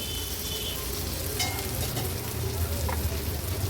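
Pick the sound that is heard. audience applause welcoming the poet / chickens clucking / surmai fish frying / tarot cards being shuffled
surmai fish frying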